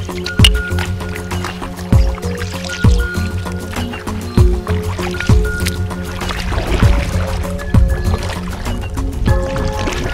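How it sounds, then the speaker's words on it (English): Canoe paddle strokes dip and splash through river water in the Katherine River gorge in Australia, a roughly regular rhythm of close, soft liquid pulls and drips with a faint background hum. "Today we are going to leave land and we are going to go on canoe on the Katherine"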